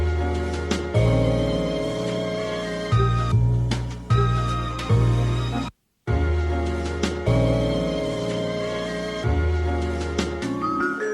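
A hip-hop sample plays back in Serato Studio at full range with its deep bass notes restored, a loud, steady loop of music that drops out briefly once before resuming.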